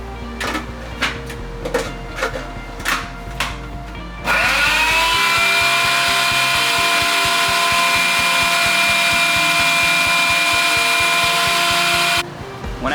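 A blender whizzes a paste of sesame oil, rice vinegar and fish sauce. A few light clicks come first, then a loud, steady motor whine runs for about eight seconds and cuts off abruptly, with no talking.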